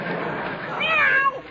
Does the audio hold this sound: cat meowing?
yes